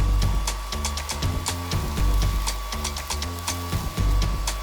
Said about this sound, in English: That's pretty powerful for a blowdryer.